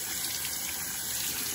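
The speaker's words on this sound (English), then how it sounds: "And then you turn your faucet up" A faucet runs steadily into a sink while a saxophone or clarinet ligature is rinsed clean, a soft continuous gush of water with no pauses and no talking.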